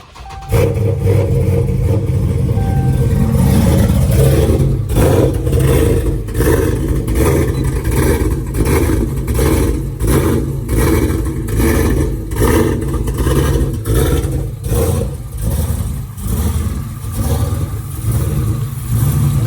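A car engine fitted with an Edelbrock Victor 2 intake manifold starts up and revs, loud and close, with a rough lumpy idle broken by repeated throttle blips that rise and fall in a pulsing rhythm.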